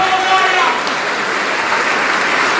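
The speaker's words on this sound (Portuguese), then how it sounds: "E vamos aplaudir ao Senhor Jesus por cada vida que está chegando." A church congregation claps continuously during a service, a dense, steady wash of applause with no pauses, fairly close and loud.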